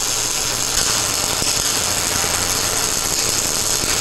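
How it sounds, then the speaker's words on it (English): MIG practice weld with a Miller Millermatic 250 welder, a steady continuous hiss and crackle with faint irregular pops, constant in level throughout. "Turn the machine on, and wearing all personal protective equipment, make a practice weld."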